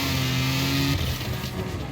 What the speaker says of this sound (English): Aisha's car is a literal rocket ship. Pretty clumsy but packed with power, and it sounds very deep and throaty fittingly.